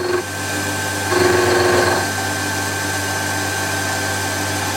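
A metal lathe is turning a part for a shop-made knurling tool, producing a steady mechanical hum and drone with a brief louder cutting whine in the middle, close by.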